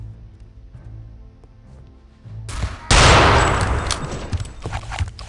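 Gunfire in Return to Castle Wolfenstein comes as a sudden loud burst of several rapid shots that echoes and fades over a couple of seconds, after a quieter stretch of game ambience.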